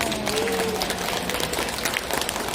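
An audience claps during a barefoot-walking lecture at the Starfield Library in COEX Mall, Seoul. The applause is a dense, steady patter of many hands, moderately loud throughout.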